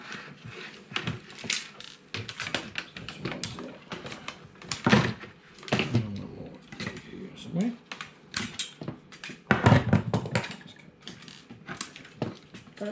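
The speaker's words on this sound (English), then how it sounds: "Let's cut these wires there." Snips cut through wires and clatter against plastic and metal parts while a laminator is being stripped for recycling, a string of irregular clicks, snaps and knocks close by, heard alongside people talking.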